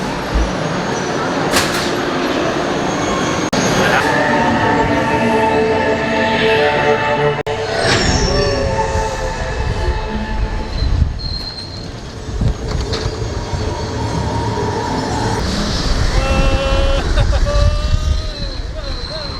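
An Epcot ride vehicle brakes hard during a brake test, giving a loud, close metallic squeal and grinding rumble that builds and fades over several seconds, with voices talking over it.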